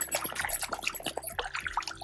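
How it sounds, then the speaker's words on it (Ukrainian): A dog splashes through muddy puddles on a Carpathian mountain hiking trail, with quick, close, wet slaps and trickling water in a short, busy burst. "Це моя собака е, почала любити всі калюжі."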